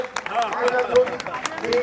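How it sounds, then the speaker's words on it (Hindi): Crowd clapping at a village gathering in Nangla, Mahendergarh, fairly faint and scattered, with talk and babble running over the applause throughout. "जोरदार तालियां बजाएं"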